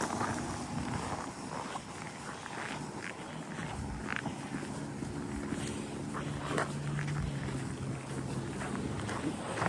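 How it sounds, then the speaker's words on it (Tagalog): Strong wind roars steadily across an open space at The Forks in Winnipeg, Canada, in very cold weather, with gusty buffeting and a low rumble throughout, and faint thumps underneath. "Lakas ang hangin dito."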